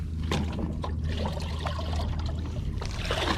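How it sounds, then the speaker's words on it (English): Water splashing and trickling into a bucket that holds freshly netted threadfin shad beside an urban storm drain, a continuous close pour with a low steady hum underneath and no talk. "Water in this bucket."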